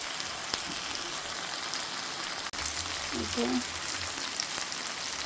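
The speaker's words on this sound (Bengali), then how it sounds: "এই ভাজিটা আমি আরও কিছুক্ষণ নেড়ে দেবো, কিছুক্ষণ পর পর।" Green tomato bhaji fries in a pan with a steady, soft sizzle like light rain, while it is occasionally stirred. A faint voice briefly murmurs over the quiet, continuous crackle.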